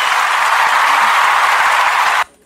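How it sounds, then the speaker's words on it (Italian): Dense, loud audience applause at a celebration event, a continuous wash of many hands clapping close up that cuts off abruptly at the end, with no talking. "Sentite un po' che applauso."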